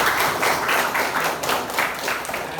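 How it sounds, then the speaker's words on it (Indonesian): A school class claps hands together in a steady burst of rhythmic applause, fairly close, lasting a couple of seconds. "biar semangat, tepuk tangan dulu kita"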